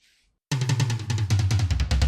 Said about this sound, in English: ideally you'd need a drum kit with many, many toms in a row